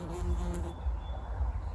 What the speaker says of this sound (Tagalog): Bubuyog.